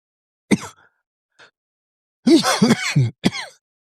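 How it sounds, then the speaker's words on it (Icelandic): A man preaching a sermon coughs and clears his throat, a few sharp bursts at close range separated by silence, with no talk between them. "Fyrirgefið smá hósti."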